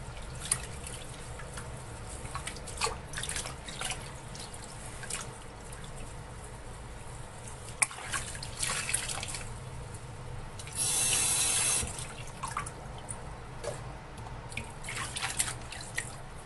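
Grapes washed under a running kitchen tap and rubbed with a plain sponge, with steady running water, scattered drips and a louder gush of flow partway through, no talking.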